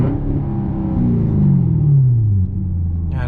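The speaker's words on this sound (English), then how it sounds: "Let me give you a quick exhaust note here from in the car." A deep, muffled engine rumble heard from inside a Chevrolet C7 Corvette Stingray Z51, the exhaust note droning and dropping in pitch before cutting off.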